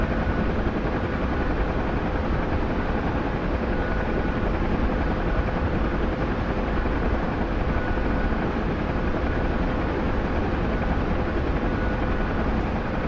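Steady, loud helicopter rotor and turbine drone in the flight game DCS, droning unchanged from start to finish with a faint tonal whine and no talking.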